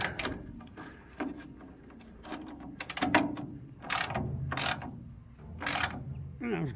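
A spanner ratchets on the back of a tight nut during a mechanical job, giving several short clicking bursts with knocks and handling noise in between, fairly close and moderately loud, with no talking.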